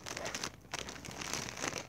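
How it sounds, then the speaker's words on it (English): A package being cut open, with close crinkling and rustling of plastic wrapping in quick irregular bursts at a soft level. "I'll cut this package open."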